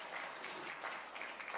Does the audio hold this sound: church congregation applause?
yes